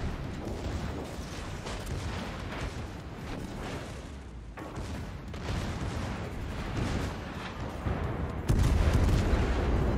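Heavy naval gunfire from the German pocket battleship Graf Spee in the World of Warships game, repeated booming salvos in a loud, dense barrage with no speech, building to a stronger blast near the end.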